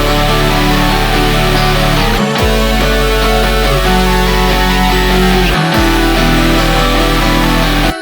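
Full song instrumental combining guitars, strings and plucked synth parts over a deep steady bass, loud and dense throughout with two short breaks where the low end cuts out briefly.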